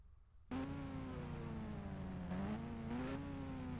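A Kawasaki motorbike's engine in a Indian bike driving video game holds a steady, loud buzzing drone, with a brief rise in revs partway through as the bike cruises along a beach road.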